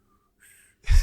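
A person tries and fails to whistle, making only a faint, thin breathy hiss, then a louder, closer puff of air.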